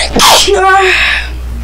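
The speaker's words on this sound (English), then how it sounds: "Keep sneezing." A single loud sneeze bursts out close to the mic during a Fortnite gaming session, with a short voiced tail.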